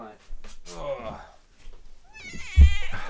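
A pet cat meows twice in a home, close and clear, while a person talks to it.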